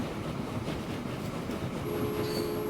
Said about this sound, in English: That's our train that's going